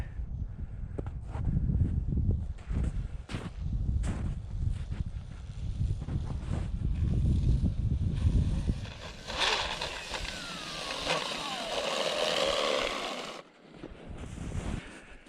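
A SkeeRide 2 RC jet ski running on water, a buzzing motor with wind rumble and splashing, rising to a whining pass partway through before fading, heard from nearby.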